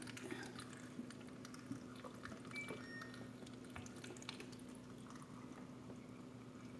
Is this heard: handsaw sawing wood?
no